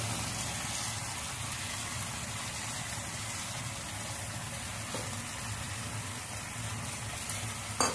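A steady, even sizzle from a hot pan as a paste of soaked, ground cashew, poppy seed and melon seed goes in while making chicken bharta, moderately close and constant with no talking.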